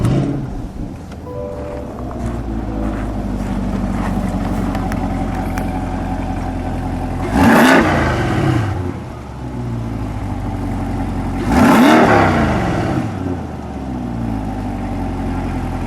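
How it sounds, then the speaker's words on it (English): A 2021 Chevrolet Corvette Stingray Convertible Z51 rumbles at a steady idle with its exhaust in touring mode, and two sharp throttle blips rise and fall partway through. No one speaks over it. "you can hear the level of the exhaust in touring"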